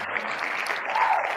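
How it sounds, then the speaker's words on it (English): Brief burst of applause from a small crowd, steady clapping throughout, fairly close. "Give yourself a round of applause, Finn."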